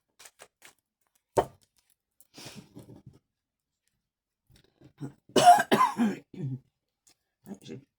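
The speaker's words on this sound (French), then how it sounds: "J'ai une petite toux là qui m'agace." Several short, dry coughs and throat clearings from a nearby person, scattered among quiet breaths and small clicks, with a louder burst of coughing in the middle.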